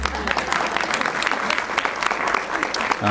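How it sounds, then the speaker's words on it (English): A room full of people claps steadily, dense applause filling the whole stretch at moderate volume. "Give her a round of applause, please."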